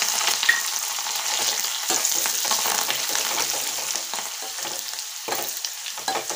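Ground garlic and curry leaves sauté in hot oil, a bright crackling sizzle with frequent spatula scrapes and stirring taps, close by and moderately loud, with no one talking.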